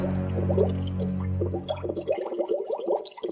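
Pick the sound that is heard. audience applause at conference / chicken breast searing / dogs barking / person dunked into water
person dunked into water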